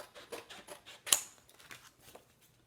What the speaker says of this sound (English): So I am going to cut apart my transfer